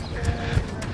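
Horse trotting long on the rein on a slight slope, a couple of dull hoof thuds against a busy outdoor background.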